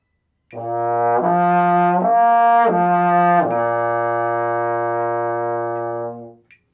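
A trombone holds a long, steady note, slurs up to a higher note and back down in a three-note lip slur, then settles on the low note and fades out.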